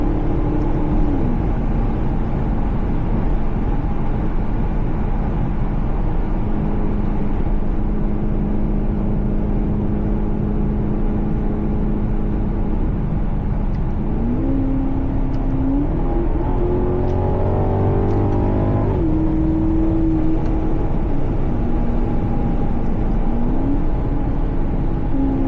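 A Maserati GranTurismo with a 6-speed gearbox drums along from inside the cabin, a steady engine hum with wind and road rumble that rises in pitch as it accelerates and shifts.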